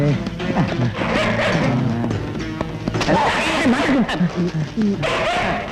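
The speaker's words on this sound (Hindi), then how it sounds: "लगता है बड़ा कुत्ता" A big dog barks repeatedly, loud and close, in a noisy outdoor scene while people talk over it.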